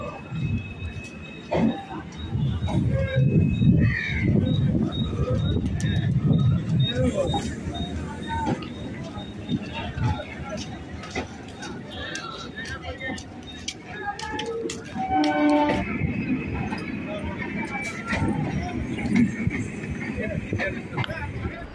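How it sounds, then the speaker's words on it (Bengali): A local train pulls into a platform at busy Sealdah station, its rumble and clatter mixed with crowd babble and a person talking over it, with a couple of brief tonal squeals and horn-like notes midway. "আর দেখো ওই সাইডে একটা ট্রেন ঢুকেছে আর কত মানুষ যাচ্ছে"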